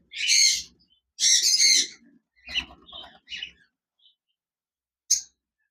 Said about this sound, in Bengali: এখানে দেখতে পাচ্ছেন একজোড়া লটিনো রেড আই কোকাটেল পাখি রয়েছে, বিগ সাইজের